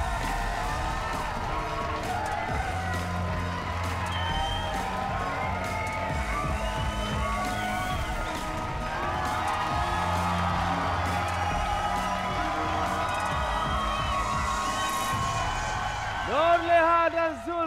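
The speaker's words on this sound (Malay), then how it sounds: "Kita berikan tepukan untuk Nur dan Zul." A studio audience on the Malaysian game show RM1,000,000 Money Drop cheers and whoops for contestants Nur and Zul under a host's steady talk, with the crowd swelling toward the end.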